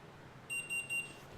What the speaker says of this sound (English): We're gonna hear the beep.